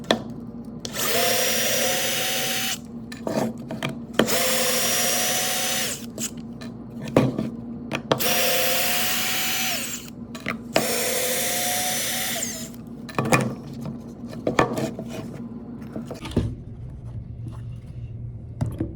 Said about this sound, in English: let's pop out these screws